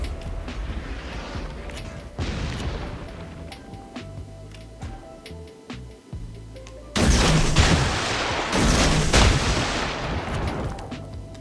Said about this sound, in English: À tous les bâtiments, concentrez le tir sur la cible.